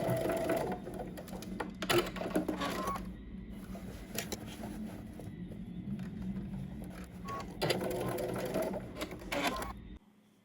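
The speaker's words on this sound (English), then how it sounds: "And at the sewing machine, I'm just going to top stitch." A home sewing machine topstitches belt loops onto a garment, running in two bursts of steady whirring separated by a quieter stretch of handling, close and alone until it stops at the end.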